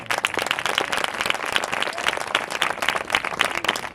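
A church audience claps steadily during a Hindi-language Bible sermon, a dense, continuous patter of many hands at moderate loudness with no voice over it.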